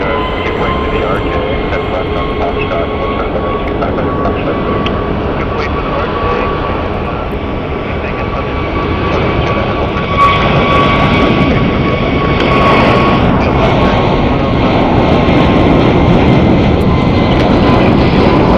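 An American Airlines jet airliner at Phoenix Sky Harbor Airport gives off a continuous loud engine roar and whine that holds steady throughout and swells slightly toward the end, with a faint voice underneath.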